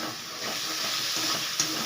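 Pickle chutney with salt, turmeric and lemon juice fries in a pan, giving a continuous gentle sizzle with light stirring scrapes and a brief tap near the end.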